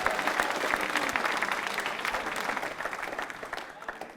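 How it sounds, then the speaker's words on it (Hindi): A quiz show audience of accounts officers bursts into loud, sustained applause that gradually thins and fades toward the end, with faint crowd murmur beneath. "तालियां जोरों से।"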